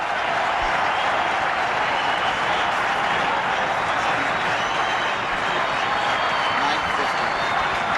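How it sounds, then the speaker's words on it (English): A stadium crowd at a Pakistan versus India one-day cricket match in Peshawar applauds a batsman's fifty: a loud, unbroken roar of clapping and cheering holds steady from start to finish. "They're all on the gallery to applaud his fine effort"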